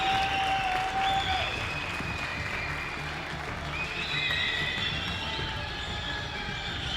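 An arena crowd at the ZFC4 MMA event applauds steadily as fighter Samiullah enters the cage, a dense, loud wash of clapping from many hands that continues throughout.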